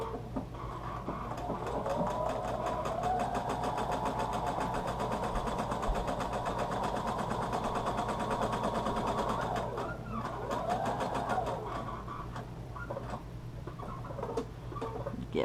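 Sewing machine stitching fabric, a steady rapid mechanical whirring and ticking that runs almost continuously, briefly slowing and pausing around a pivot before resuming.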